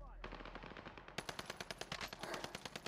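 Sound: MP40 machine gun gunfire in video game Call of Duty

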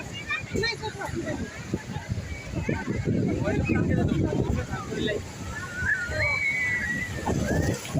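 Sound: water splashing as many devotees bathe

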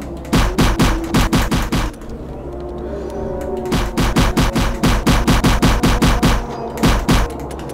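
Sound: gunfire shooting zombies in the VR video game Fovos

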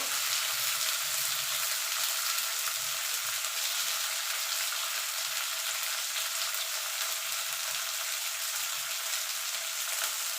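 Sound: frying onions, tomato and spices

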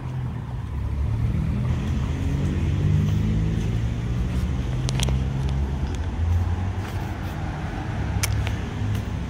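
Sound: Ford Mustang GT car driving by

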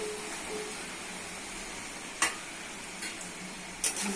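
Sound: stir-frying chicken with okra and potatoes

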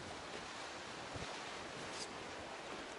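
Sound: strong wind

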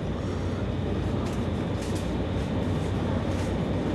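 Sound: train moving, rattling

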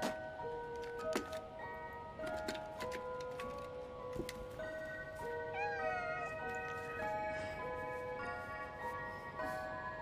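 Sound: cat meowing in Stray video game

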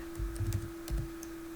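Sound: typing on a computer keyboard

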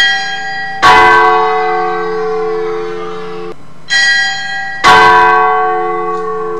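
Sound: church bells chiming

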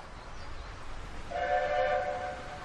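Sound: train passing

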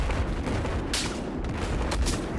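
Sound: sniper gunfire in video game Battlefield 4

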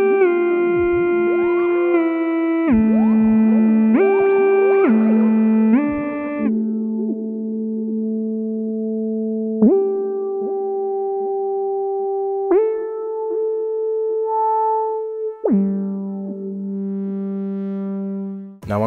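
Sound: synthesizer sound through reverb and delay pedal effects

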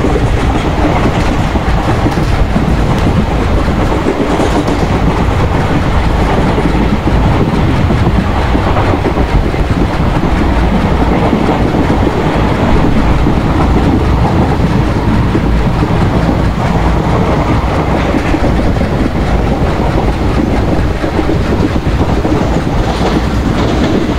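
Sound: Indian passenger train running in the MSTS Open Rails video game

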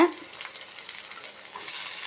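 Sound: onion sautéing in oil

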